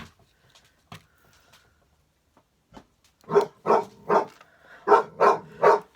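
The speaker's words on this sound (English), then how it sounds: "My dogs are trying to get him." Several sharp dog barks at a cat indoors come in a quick rhythmic series, close and loud, after a few faint knocks and scuffles.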